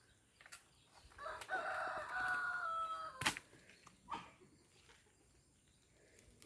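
Chickens squabbling in a backyard garden, with a rooster's drawn-out crow and a burst of agitated clucks and squawks, fairly close and alone without any talk.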